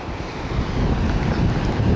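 Small, gentle ocean waves wash in at a flat beach, a steady low surf rush with a windy, buffeting quality throughout and no talking.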